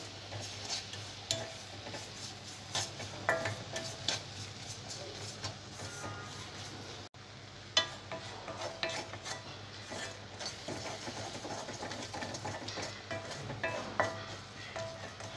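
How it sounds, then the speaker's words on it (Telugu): Gongura leaves fry in a pan for a hotel-style gongura pachadi, with a spoon steadily clinking and scraping as they are stirred over a faint low sizzle. "గోంగూర పచ్చి వాసన పోయే వరకు బాగా ఫ్రై చేసుకోవాలి."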